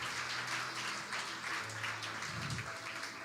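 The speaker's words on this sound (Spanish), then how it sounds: "Dele un aplauso al Señor." Congregation applauding the Lord during a Spanish-language church service on Psalm 89, a steady wash of many hands clapping throughout with a low hum beneath, moderately distant and even.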